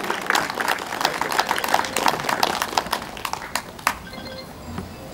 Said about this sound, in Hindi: जोरदार तालियों के साथ स्वागत करें कंवरलाल जी संघवी का